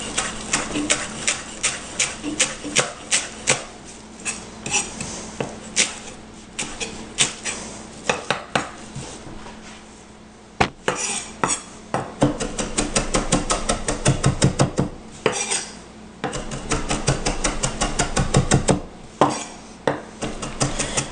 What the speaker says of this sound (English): Next, we're going to chop some cilantro.